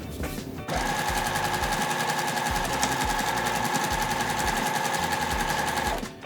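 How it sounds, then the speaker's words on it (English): A sewing machine stitches quilt pieces with a quarter-inch seam, running steadily at speed, its rapid needle clatter forming a fast even rhythm for several seconds before stopping. "we're gonna take it over to the sewing machine"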